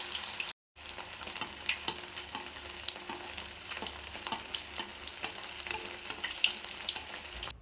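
Pieces of fish fry in hot oil over a low flame, giving a steady close sizzle and crackle with scattered pops and a brief dropout near the start.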